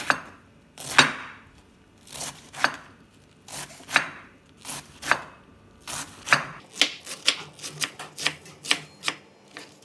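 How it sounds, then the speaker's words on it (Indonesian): Kitchen knife slicing cabbage on a board for village-style fried rice, a run of sharp close chops that start spaced out and quicken into a rapid rhythm toward the end. "Ini kolnya diiris-iris."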